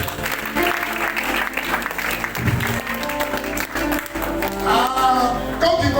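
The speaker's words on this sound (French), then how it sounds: "On acclame la parole de Dieu." A church congregation at an Easter service applauding, a dense close wash of clapping with cheering voices mixed in, lasting the whole stretch.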